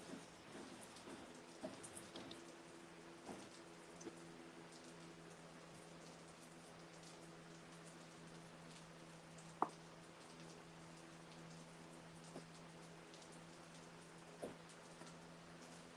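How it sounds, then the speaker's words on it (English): Soft, steady rain falls outside during gold ore smelting, faint and continuous, with occasional louder drips tapping nearby. "Raining outside. Yeah, it's picked up on the rain over here too."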